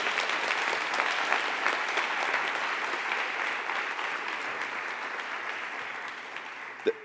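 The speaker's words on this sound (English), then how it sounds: "Can we do another applause again?" Sustained applause from an audience at a school ribbon-cutting ceremony, a steady wash of clapping that holds level for about seven seconds with a brief louder clap near the end.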